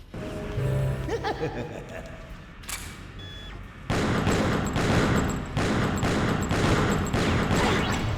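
Rapid bursts of gunfire in Killer7 crackle in a steady repeating rhythm, loud and close, after a brief quieter stretch with scattered game effects.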